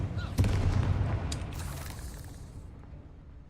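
Spell explosions from Bombarda and Confringo in the Hogwarts Legacy video game: a sharp booming blast followed by crackling debris and a long rumbling decay.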